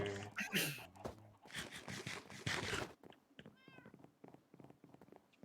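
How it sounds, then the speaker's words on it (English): A cat meows once in a block-building video game, a short rising-and-falling call heard after a busier stretch of game sounds. "there's a cat on top of my house for keeping the creepers away"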